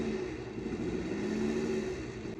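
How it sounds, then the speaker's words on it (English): A neighbor's drag racing car engine revs in the distance, a steady droning hum with a slight rise in pitch, heard without any talking. "my neighbor's doing drag racing"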